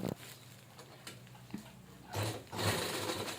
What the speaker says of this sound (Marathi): आपण व्यवस्थित अशी डबल फोल्ड करून शिलाई देऊन घेणार आहोत.